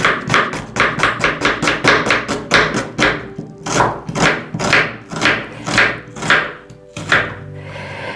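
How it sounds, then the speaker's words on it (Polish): A knife chops onion into thin strips on a board in a home kitchen, a rapid run of sharp, close taps in steady rhythm that slows into separate heavier strokes near the end, with no voices. "a ja w tym czasie pokroję cebulę"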